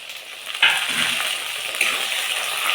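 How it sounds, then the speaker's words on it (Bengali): Chopped tomato hits hot oil in a pan for a Rajasthani curry, setting off a sudden loud sizzle that keeps frying steadily, with a second surge partway through. "এবার আমি দিয়ে দেবো টমেটো কুচি।"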